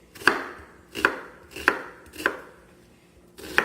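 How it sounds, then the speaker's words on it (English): A knife slices through an onion on a cutting board in five sharp, evenly spaced cuts over a few seconds, heard up close and clearly with no voices. "the reason I'm cutting my onion this way because it's so much easier."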